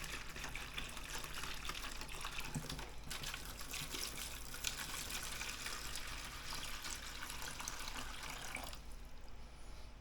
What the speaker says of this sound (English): I have to get more water now. Okay, so I have more water. I'm going to fill these up.